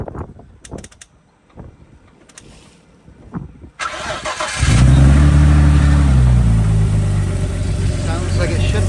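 A Nissan Skyline fitted with a hybrid turbo cranks briefly after some quiet background shuffling, then catches and settles into a loud, steady idle close by, with faint voices early on.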